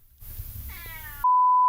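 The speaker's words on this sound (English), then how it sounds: "Cat, what do you want?" A house cat gives one short, rising meow at close range, followed right after by a steady electronic beep tone.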